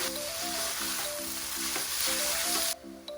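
Vegetable noodles stir-fried street-food style sizzle loudly and continuously under background music, and the sound cuts off sharply near the end.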